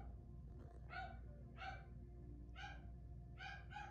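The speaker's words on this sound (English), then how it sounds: "My dog is barking because I think my father is home." A dog barks in four spaced bursts, each a short series of yelps over a steady low background hum, moderately close and fairly quiet.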